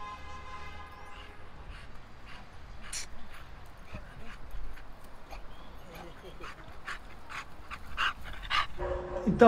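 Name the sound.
American Bully dog panting after running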